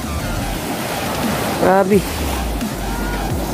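Pacific Ocean surf washes onto the sandy shore at Siargao Island, a steady broadband rush throughout with a voice speaking briefly over it near the middle.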